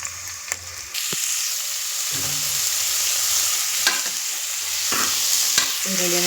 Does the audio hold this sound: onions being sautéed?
yes